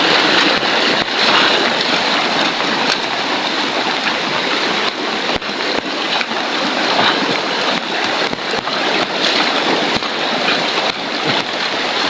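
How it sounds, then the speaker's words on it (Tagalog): River water rushes and flows steadily nearby, a loud continuous broadband roar with no break across the whole stretch. "malaki na yung ilog"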